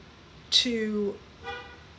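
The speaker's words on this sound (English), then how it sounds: "we've got a horn honking" A car horn honks outside during a spoken meditation class, one sustained toot of about half a second with a fainter second beep after it.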